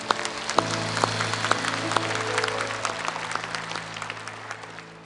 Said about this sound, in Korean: 창조주 하나님께 감사의 박수를.